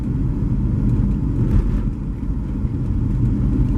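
A Volvo station wagon engine idles and rumbles steadily up close, a deep continuous low drone with no voices.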